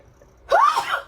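A single short, sharp sneeze burst, close and fairly loud, rising quickly and fading within a second.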